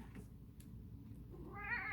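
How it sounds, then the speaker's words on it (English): A domestic cat meows insistently near the end, a loud wavering call rising over steady low background noise after a quiet stretch with a few faint knocks. "Demanding cat."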